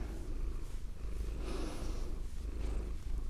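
A cat purrs softly and steadily up close, a low continuous rumble in a quiet indoor setting, with no talking.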